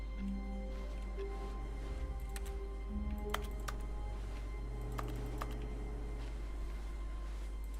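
Scattered clicks and taps of keyboard typing in The Stanley Parable video game, sounding like keys being struck hard, faint and intermittent over a steady low office hum and soft tonal background music.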